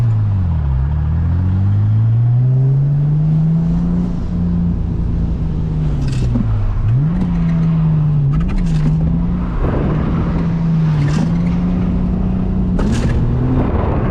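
A right-hand-drive Toyota Soarer driven at low power while drifting: loud, close engine drone with rises and dips in revs through the slides, and brief tire squeals cutting in now and then, with no talking.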